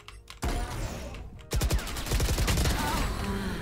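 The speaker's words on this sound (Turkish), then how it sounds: "Bak sallama sesine falan bak." Anomaly-skin knife swings in Valorant: after a quiet start, a whooshing burst arrives near the half-second mark, then a dense run of sharp rapid strikes and gunfire-like clatter fills the rest, loud and close.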